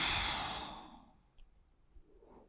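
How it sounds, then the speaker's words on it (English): A long, audible exhale through the nose and mouth during a yoga breathing exercise, close and breathy, fading over about a second, followed by quiet with faint soft breaths. "Breathe in, look up. Breathe out, look down."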